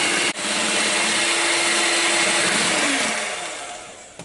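A mixer grinder whirs loud and steady as it blends cake batter with curd, orange peel and refined oil, its motor tone holding for several seconds before easing down as the run winds off.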